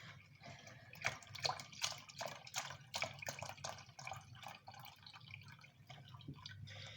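Water poured into a pan for mashed potatoes in a home kitchen, a close splashing, dripping trickle that comes in uneven spurts and tapers off toward the end, with no talk over it.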